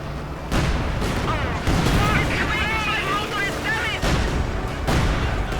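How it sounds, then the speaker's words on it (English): Booming artillery blasts in a 2v2 World War II strategy game battle, with a field gun shelling retreating troops, dense thumps over a continuous din of gunfire and explosions, with commentary voices talking throughout. "Yes, indeed, artillery going in here on the field gun, hitting any of the retreating troops as well."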